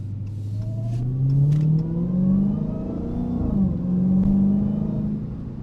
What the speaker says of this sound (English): You definitely hear that supercharger whine up there as well, which is pretty sweet.